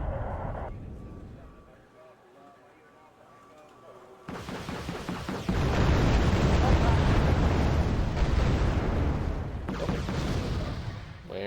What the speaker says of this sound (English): Lost track of that artillery, but it was right here somewhere.